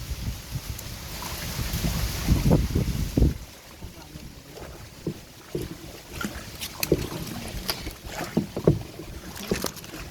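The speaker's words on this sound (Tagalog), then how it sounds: "Lakas ng hangin." Strong gusts roar and buffet against the microphone in a flooded area, rising in heavy bursts and then easing into scattered rustles and knocks.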